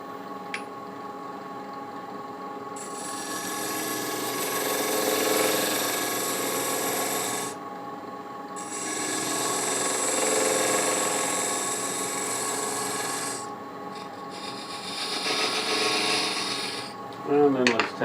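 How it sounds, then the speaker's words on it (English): A lathe tool cuts a cove into a turned wooden stacking box, giving steady scraping bursts that run for several seconds with short pauses between them, close and fairly loud, and no talking. "first we need to make a little bit of a cove here"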